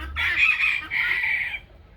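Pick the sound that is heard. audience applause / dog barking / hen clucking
hen clucking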